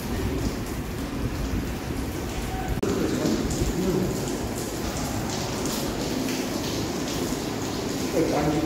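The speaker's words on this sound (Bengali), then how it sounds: "এখন বৃষ্টিটা একটু কমেছে।" Rain falls steadily on a hill road, making an even wash of drops and patter from start to finish, with muffled voices faintly in the background.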